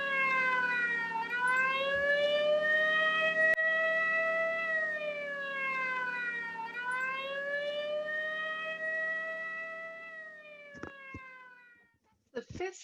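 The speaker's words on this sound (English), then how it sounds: "The fifth siren I've heard in the last hour." A wailing siren rises and falls in long slow sweeps, steady and fairly loud, fading out at the end with a few faint knocks.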